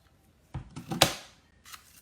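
A paper punch cuts through cardstock during card making with designer paper, giving a couple of soft rustles and then one sharp, close crunching snap that trails off, with a faint paper shuffle afterward.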